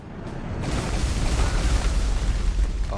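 A Sky Barrage attack in the video game Jujutsu Shenanigans erupts into a loud, continuous rumbling barrage of explosions that swells and holds, with no talk.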